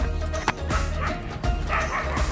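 A newly acquired dog, taken into a river for the first time, barks and yips in short repeated bursts close by, with a busy outdoor background beneath.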